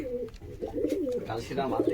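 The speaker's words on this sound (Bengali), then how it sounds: "এ হচ্ছে এক জোড়া কবুতর" A pair of pigeons offered for sale coo softly up close in a brief, rolling throaty burst, with a faint voice in the background.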